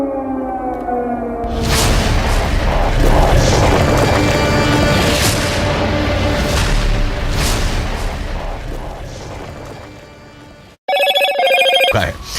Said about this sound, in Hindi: एक बड़ा धमाका जो दूर से ही कैमरे में भी कैद हुआ